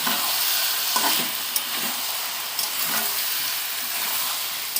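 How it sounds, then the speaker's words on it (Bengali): Fried ground spices being stirred into chachra in a pan, a steady close sizzle with scraping stir strokes every second or so. "ভেজে রাখা গুঁড়ো মশলাটা যেটা আগে ভেজে রেখেছিলাম সেই মশলাটা দিয়ে দিলাম এবারে নেড়ে দিলাম"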